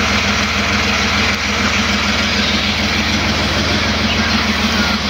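A truck loaded with laboratory machines idles at a Bharat petrol pump, its diesel engine a loud, steady low rumble that runs unbroken throughout.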